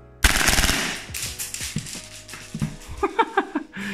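A KSC M93R2 HW airsoft pistol fires a loud full-auto burst of rapid, close mechanical reports, followed by a few lighter clattering clicks as it ends.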